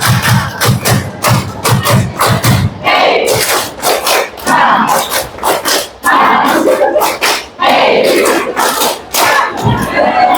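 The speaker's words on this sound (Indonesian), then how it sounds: "Tepuk satu, dua, tiga, tiga, dua, satu." A group claps along to a counted one-two-three, three-two-one pattern at an Indonesian anti-bullying gathering, with loud, sharp bursts of clapping and a crowd shouting between them.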